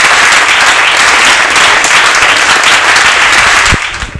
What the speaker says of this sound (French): nous demandons au public de pouvoir applaudir très fort